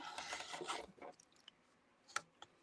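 Rotary cutter slicing quilt fabric on the diagonal for quarter triangles, a soft rasping scrape for about a second, then quiet clicks and light handling taps, close and faint.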